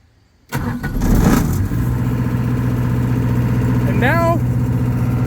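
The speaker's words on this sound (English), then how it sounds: "We'll go ahead and start this. And it's going to heat up the glow plugs and then start up." A beverage trailer's engine cranks after its glow plugs heat, catches and settles into a steady, loud idle, with a brief rising whine partway through.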